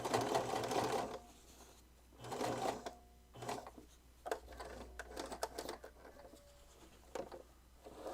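A sewing machine stitches improvised snow pants in bursts, with short runs of rapid needle chatter separated by pauses and lighter clicks and handling noises, heard close and alone.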